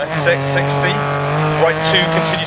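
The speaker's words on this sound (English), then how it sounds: "It's a 275 horsepower Ferrari Formula 1 V6. It sounds glorious." The 275-horsepower Ferrari V6 of a Lancia Stratos rally car in the video game Dirt Rally holds a high-revving, steady, sustained whine with a slight pitch rise near the end, loud and close.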